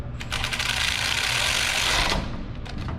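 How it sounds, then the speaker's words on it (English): A wrench or ratchet tightens the pinch bolt on a Honda engine governor arm, giving a rapid mechanical whirring burst up close for about two seconds, followed by a few brief clicks. "then you're going to simply tighten down the bolt"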